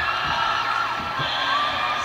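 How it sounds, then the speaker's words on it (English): Volleyball crowd roaring and cheering for the Cal Golden Bears after a big block at the net in a Stanford at Cal women's match, a dense, continuous wall of shouts and whoops with no pauses. "This crowd is going wild for the Cal Bears right now."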